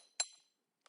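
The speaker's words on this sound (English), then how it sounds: "I'm just gonna hammer the center of this a little bit." A small hammer strikes a jewelry piece on a bench block, one bright metallic clink followed by two faint quick taps, close and quiet.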